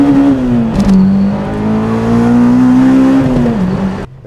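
A Honda Civic Type R accelerates hard with its engine loud and close throughout, the strained drone rising and holding steady as the tires spin, ending abruptly.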